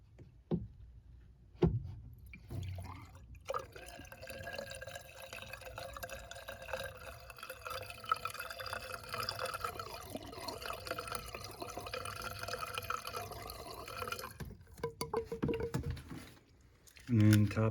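Water drips and runs down the condensate drain of a Mitsubishi ductless heat pump during maintenance at a hotel, gurgling and trickling for several seconds, with speech in between.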